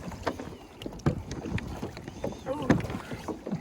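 Two people paddle a canoe or kayak on Long Island Sound, with soft irregular splashes and paddle knocks close by under light wind, and faint voices now and then.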